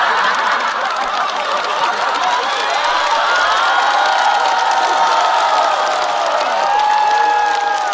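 Loud audience cheering and laughter at a stand-up comedy show, a continuous roar of crowd voices with shouts, whoops and scattered giggles sustained for several seconds.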